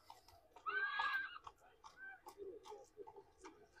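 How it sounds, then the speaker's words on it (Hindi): A stallion at the Pushkar livestock fair gives a loud, shrill whinny that fades, followed by snorts and muffled sounds while someone talks nearby. "ये पांचों के पांचों खूबसूरत घोड़े लेकर निकल पड़े हैं"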